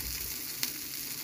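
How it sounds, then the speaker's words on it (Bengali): Chapa dried fish frying in a pan, a steady close sizzle running through the whole moment with a brief clink partway through. "এই যে দেখতে পাচ্ছেন চাপা ভাজতেছি"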